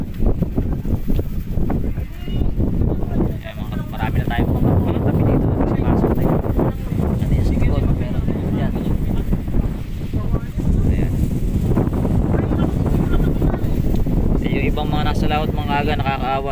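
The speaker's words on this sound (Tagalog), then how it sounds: "medyo malakas na yung hangin nyo dito" Strong wind roars across the microphone on a fishing boat out on the Pacific, a loud, constant gusting rush with water and hull noise beneath it throughout.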